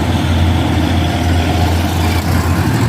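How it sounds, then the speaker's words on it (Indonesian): A trailer truck labours up a hill road near Bukit Kodok, its heavy diesel engine giving a loud, steady low rumble with a throbbing drone and a constant broadband roar, no voices. "Kita ikuti truk trailer ini."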